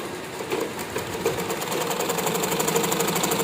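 A sewing machine stitches the side joint of an A-line long frock, a close, steady run of fast rhythmic needle clatter that continues evenly throughout, with no voices.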